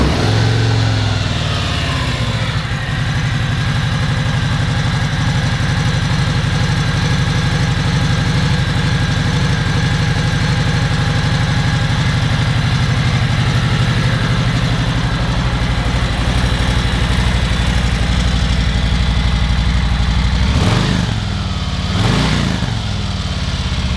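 A 2021 Harley-Davidson Softail Slim idles steadily and loudly up close with a deep, loping rumble, then gets two quick throttle blips near the end.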